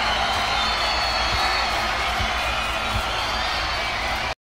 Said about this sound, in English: as Kevin walks out, he is met with applause and cheers